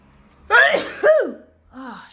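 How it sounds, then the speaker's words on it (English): A person sneezes, with a sharp intake followed by an explosive burst and a second shorter expulsion, close and loud, then a brief vocal sound. "Feels like I'm going to sneeze."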